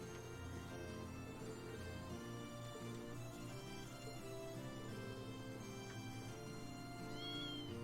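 A cat meowing in the video game Trails of Cold Steel II, soft repeated mews over steady background game music, no talking.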